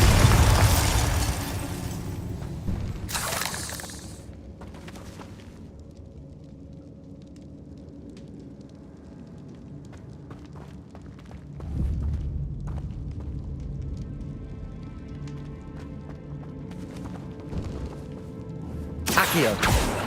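Spell explosions from Confringo and Bombarda in the video game Hogwarts Legacy: loud, sharp blasts burst at the start and again near the end, with quieter rumbling game ambience and scattered smaller impacts in between.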